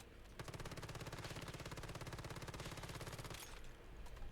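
Rapid automatic gunfire from the survival shooter game Once Human, one full magazine fired in a steady, fast unbroken burst for about three seconds before cutting off, loud and up close with no talking.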